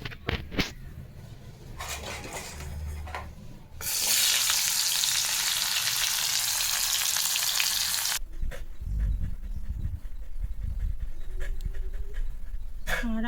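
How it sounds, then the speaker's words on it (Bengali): Bitter gourd slices frying in a pan, a loud steady sizzle starting suddenly and holding for several seconds before cutting off, with quieter kitchen bumps and low rumble around it. "উচ্ছেটা ভেজে নিই।"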